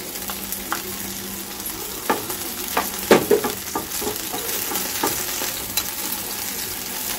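Fried rice frying and being stirred in a freshly swapped wok, a steady close sizzle broken by scraping and clattering stirs at an uneven rhythm, with no talking over it.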